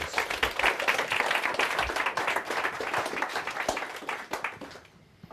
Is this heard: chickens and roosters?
no